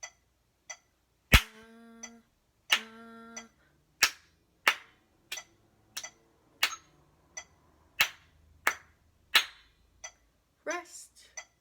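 Hands clapping a steady rhythm in time with a metronome at about 90 beats per minute: sharp, evenly spaced claps and ticks, close and clear, with a short voice at the start and end.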